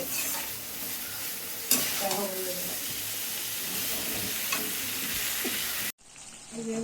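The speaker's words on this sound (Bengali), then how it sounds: "মাংস গায়ে অনেকটা কষানো হয়ে গেছে, এখনো আরো কষবে।" Meat is being braised in oil in a pan, with a steady hiss of frying and repeated scraping stirs, a sharp utensil knock, and faint talk before the sound cuts briefly and resumes.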